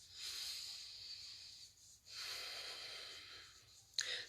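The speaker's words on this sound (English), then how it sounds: "Nice deep breaths." Slow, deep breaths during a calming grounding exercise for children: two long, soft airy inhales or exhales with a short pause between, quiet and close, ending in a brief sharper puff.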